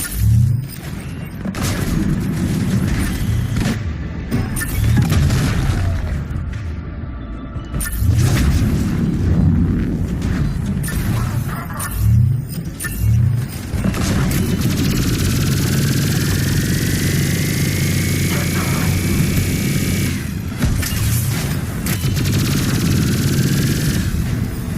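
Heavy cannon blasts and rapid gunfire during a Mass Effect 3 battle against an Atlas mech, with loud repeated booms and rattling bursts that continue throughout amid dense combat noise.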